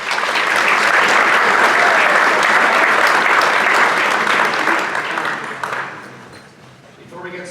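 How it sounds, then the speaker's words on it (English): An audience at an athletic awards ceremony applauds, a loud dense wash of clapping from many hands that holds steady, then thins and fades out near the end. "Let's give everybody a round of applause."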